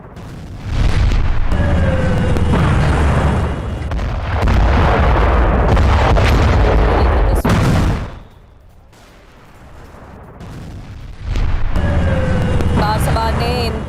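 A series of loud, broad blasts and rumbling booms from a distant petrochemical plant in Ahvaz, one after another, with a brief quieter lull in the middle.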